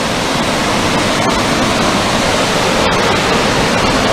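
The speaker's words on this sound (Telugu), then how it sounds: "ఇక హుస్సేన్ సాగర్ నుంచి నీటిని దిగువకు విడుదల చేశారు అధికారులు." Water released downstream from Hussain Sagar lake in Hyderabad after heavy rain roars loudly and steadily like a waterfall, a dense unbroken rush with no voices.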